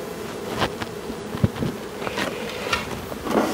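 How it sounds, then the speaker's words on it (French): Honeybee foragers returning to a hive after a swarm is transferred in October, a faint, steady buzzing with scattered wingbeat passes close by, no talking. "les butineuses commencent à rentrer"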